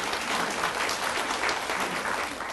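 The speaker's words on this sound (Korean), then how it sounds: "우리 하나님께 감사와 영광을 박수를 드리겠습니다" A church congregation applauding together, a loud, continuous roar of many hands clapping that holds steady throughout.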